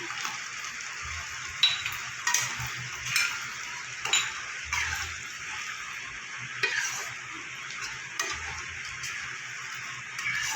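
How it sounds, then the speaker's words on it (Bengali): Fried potatoes and two whole garlic cloves stirred into spiced oil in a pan, giving a steady soft sizzle broken by repeated scraping stirs and light clinks of a spoon against the pot. "এবার আমি দিয়ে দেবো ভেজে রাখা আলু তার সাথে দিয়ে দেবো দুটো গোটা রসুন"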